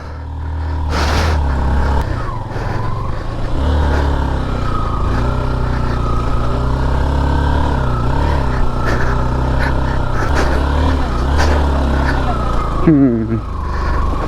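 A motorcycle engine drones steadily throughout while riding on a muddy, rain-soaked road near Hulangala, Sri Lanka, loud and continuous, with a brief rattle near the end and voices talking over it.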